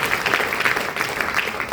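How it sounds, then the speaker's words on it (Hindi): An audience at a motivational speech event applauds loudly, with a dense, continuous clatter of clapping hands throughout. "सर के लिए जोरदार ताली।"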